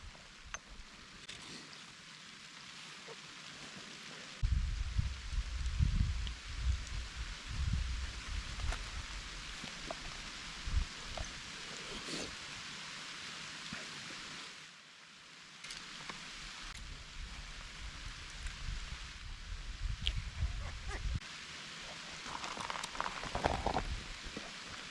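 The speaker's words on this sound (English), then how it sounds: "It's starting to rain harder." Heavy rain pours down steadily outdoors, a dense, loud hiss of drops that surges in intensity partway through, with no voices.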